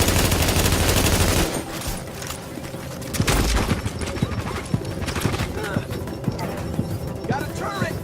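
Rapid bursts of gunfire from a turret in the video game The Division, crackling in dense clusters over a heavy low rumble that gives way partway through to sparser shots, impacts and game effects.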